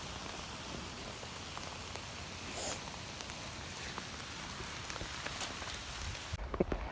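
Steady rain falling during a forest hike, a dense even patter of drops on leaves and ground that fills the whole stretch, close and continuous, with no talking.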